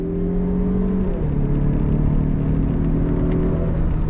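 A 2021 Mazda CX-30 Turbo AWD accelerates on throttle, its engine droning loud and steady from inside the cabin as the pitch climbs, dips briefly around a shift, then rises again.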